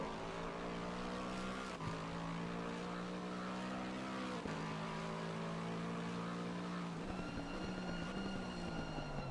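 BMW and Aston Martin race cars circulate at Imola, a continuous droning engine note with steady harmonic whine and a few abrupt pitch drops under braking or shifts, close and unbroken.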